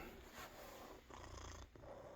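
A cat purrs loudly and close up, a rough rumbling drone that swells and dips with each breath.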